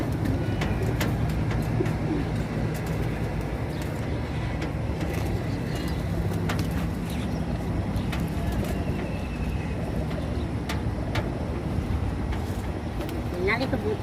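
Pigeons cooing in a rooftop loft after rain, with low, soft repeated coos running through steady outdoor background noise and distant traffic, while someone talks over them.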